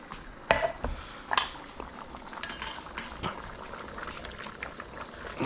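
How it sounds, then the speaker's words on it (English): Ropa vieja stew boils in a pot with a soft, steady bubbling beneath a few sharp metallic clinks of a utensil against the pot. "Now that everything is nice and boiling,"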